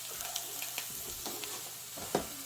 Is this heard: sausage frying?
yes